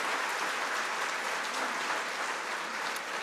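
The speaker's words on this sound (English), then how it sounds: "Big round of applause, ladies and gentlemen, once again to Mr. Devdutt Patnaik." An audience at a literature festival session gives a round of applause: dense, even clapping from many hands, held at a steady level from start to finish.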